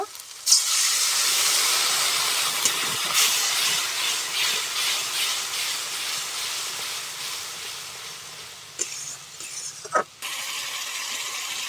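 Fried cauliflower and potato tipped into hot spiced oil in a Bengali kitchen, giving a loud, steady sizzling hiss that runs throughout, with a few sharp clatters near the end.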